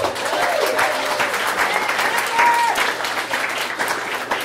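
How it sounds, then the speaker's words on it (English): Audience applause at a Nerd Nite talk night in Ann Arbor, a steady room-filling wash of clapping that holds for several seconds, with a faint voice or two briefly rising above it. "So give her a round of applause for that."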